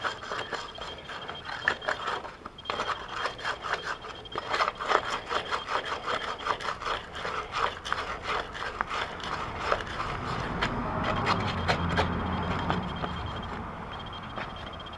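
Rust being scrubbed off a 1966 Briggs & Stratton small engine, a steady rapid rasping and scraping of a brush or abrasive on metal, close up and continuous throughout, with no voices.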